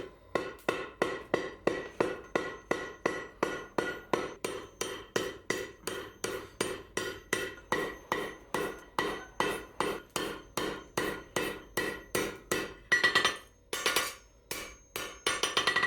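Steady, rhythmic ball peen hammer blows ring on metal over an anvil horn while forging a bottle opener, dozens of evenly spaced strikes, close and clear, with a brief pause and faster taps near the end.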